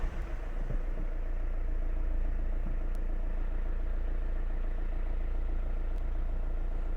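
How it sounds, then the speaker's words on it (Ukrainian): A Nissan Almera N16 idles just after starting, with a steady low rumbling engine hum running evenly and close up, alone with no talking. "Самі бачите, машина заведена"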